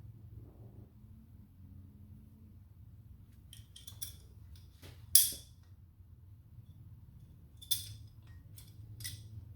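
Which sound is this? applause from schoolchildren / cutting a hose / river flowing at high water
cutting a hose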